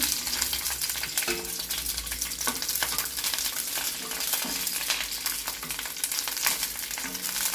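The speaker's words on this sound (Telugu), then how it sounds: "ముందుగా పచ్చిమిరపకాయలు వేయించుకున్నానండి" Green chillies fry in a pan for a drumstick leaf chutney, with a dense, constant crackling sizzle and the repeated scrape and stir of a spoon, close and with no one talking.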